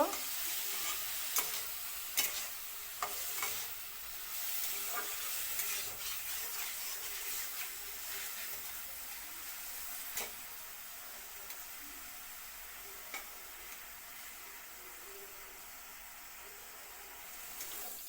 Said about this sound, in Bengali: ভালো করে বেগুনটা ভাজতে হইব